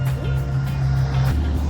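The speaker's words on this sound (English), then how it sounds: "There's a car coming, so we have to wait." A car passes on a street, its engine hum holding steady and then dropping in pitch as it goes by, close and brief.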